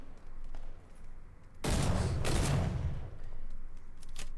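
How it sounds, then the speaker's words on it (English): A double-barrel shotgun fires in PUBG on the Miramar desert map, played on Xbox One test servers. Two loud, close blasts ring out in quick succession against quieter game ambience. "Double barrel shotgun."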